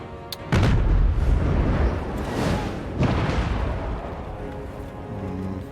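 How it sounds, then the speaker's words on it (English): Artillery volleys in the Total War: Warhammer III battle game, heard as two heavy booming blasts a few seconds apart, each followed by a long rumbling tail under a dense battle din. "And then the artillery, ping away at them."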